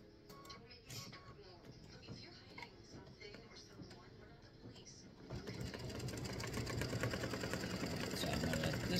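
An embroidery sewing machine stitching fabric tic-tac-toe game pieces, running in a steady rapid rhythm that grows louder and more continuous midway, close and alone.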